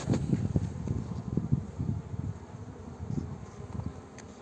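Honeybees buzz steadily close by in a crowded hive, a dense droning hum with small rises and falls, no voices.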